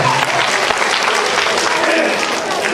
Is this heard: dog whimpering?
no